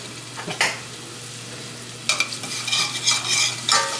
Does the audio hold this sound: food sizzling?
yes